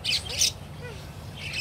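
Birds give a few brief squawks and chirps close by, with short bright calls scattered over a low background hum.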